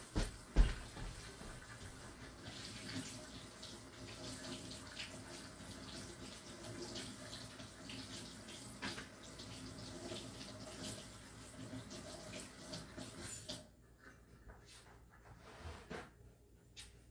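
Tap water running steadily into a sink while stained glass ornament pieces are rinsed, a soft continuous splashing that stops near the end.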